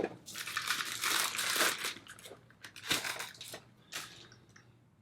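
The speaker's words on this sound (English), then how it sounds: "Lots of plastic." Plastic packaging for a HUANUO dual monitor stand crinkles and crunches in close, dense bursts with short pauses, loud at first and then easing into a few sharper crackles.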